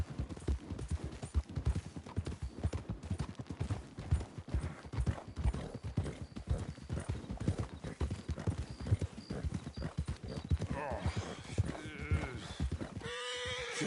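Horse hooves gallop steadily in Red Dead Redemption 2, a dense, fast clip-clop rhythm running close and loud for most of the stretch, with brief animal calls and a sharp cut near the end.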